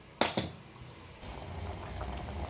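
Water and jaggery in a pot set over a lit gas stove give a faint, steady low simmer and hiss, opened by two sharp metallic clinks of a utensil against the vessel.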